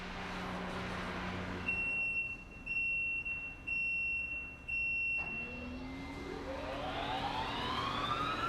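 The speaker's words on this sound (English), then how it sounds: "Hearing that buzzer fire off and then hearing the pump start up" A loud electronic buzzer on an industrial recycling shredder sounds in three pulsed bursts, then the shredder's pump motor winds up with a rising whine over steady background noise.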